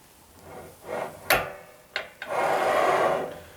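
A RUBI TQ manual tile cutter scores a tile, with a few sharp clicks and knocks followed by a steady, close scratching rasp as the scoring wheel is drawn across the surface.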